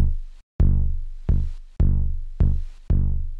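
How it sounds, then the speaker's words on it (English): Low analog percussion hits from a Behringer CAT synthesizer, booming and tonal with a falling pitch, struck five times in a steady pulse, each one decaying into the next, loud and alone. "Not really kicks, they're kind of just this lower percussion sound."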